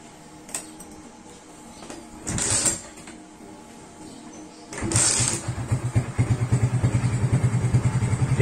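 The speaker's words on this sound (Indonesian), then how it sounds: "Kita nyalakan mesinnya." A motorcycle fitted with an NMAX rectifier regulator on a fullwave electrical system starts after a few clicks and thumps. It settles into a near, pulsing idle with a quick, regular chug.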